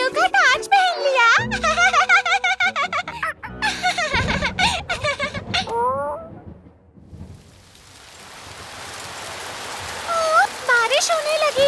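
In a children's cartoon, voices speak and laugh over light music, then a steady hiss of falling rain swells up and continues, with a voice returning over it.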